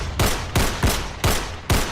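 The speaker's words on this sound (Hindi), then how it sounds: "तेजा ने बिना देरी किए अपनी पिस्टल की 6 गोलियां उसके सीने में उतार दी" A pistol fires in five evenly spaced, loud, sharp gunshots, each one cracking out with a short echoing tail.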